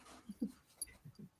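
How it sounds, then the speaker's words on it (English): A dog whimpers quietly in a few short, faint whines and yips close by, with soft background noise. "My dog says huzzah too."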